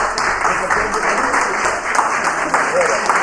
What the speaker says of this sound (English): we ask you at this stage to give all of our candidates a round of applause